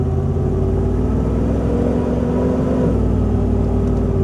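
A large Chevrolet Silverado pickup truck on a test drive, its engine a steady loud drone with rising and falling tonal hum as it pulls through the gears, no talking.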